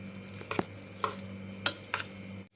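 Three eggs get mixed into boiled, drained soybeans, heard as a few sparse, quiet clinks and taps of a utensil against the bowl with near-silence between them.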